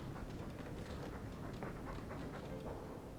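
A dog pants steadily in the video game Dragon Age 2, a soft rhythmic breathing set in a constant quiet wash of game ambience.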